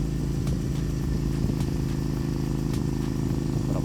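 A motorcycle engine runs steadily on a cool-weather ride, a close, loud, continuous throb with faint clattery ticks on top.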